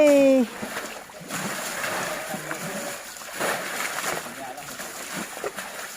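A small child splashing while bathing and playing in water, continuous sloshing and splattering with irregular bursts, close, with someone talking over it.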